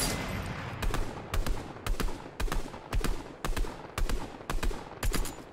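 Automatic gunfire in a Fortnite No Build match, loud rapid bursts repeating about every half second in a steady rhythm, with no talking over the shots.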